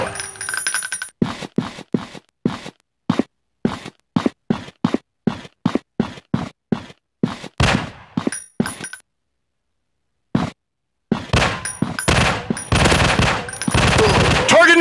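Gunfire in the zombie shooter Fire Strike, a long run of sharp single shots at a steady pace, a short silent gap, then dense rapid bursts with clinks, game voice callouts heard among the shots.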